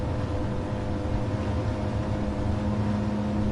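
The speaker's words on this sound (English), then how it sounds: "Let's see how fast these Audis can go in a straight line with no drafting whatsoever" Audi touring race car in a racing video game accelerating flat out down a straight in high gear, a steady, continuous engine drone with a sustained tone and no talking.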